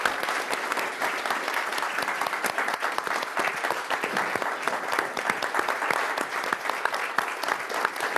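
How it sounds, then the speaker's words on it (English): An audience gives a final round of applause at an evening talk event, dense sustained clapping at steady volume throughout, with no voices above it. "So let's give a final round of applause."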